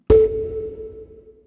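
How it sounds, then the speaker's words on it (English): A single click from a treadmill button, with a sharp onset followed by a steady sustained tone that slowly fades over about a second, heard alone with no voices. "that sound is just this treadmill button,"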